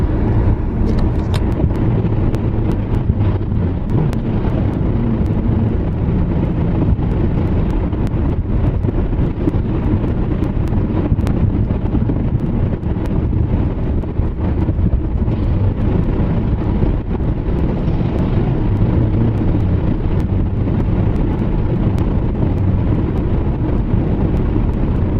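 A car drives along, heard from inside the cabin, a loud, steady low rumble of engine and road noise mixed with buffeting wind, unbroken for the whole stretch and without talking.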